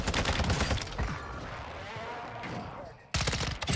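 Akimbo X13 auto pistols firing in Warzone 2, rapid bursts of close gunfire at the start and end of the clip, with excited voices talking in between.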